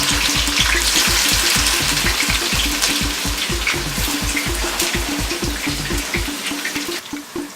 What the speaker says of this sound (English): Since the oil is hot, be careful when putting them into the pan.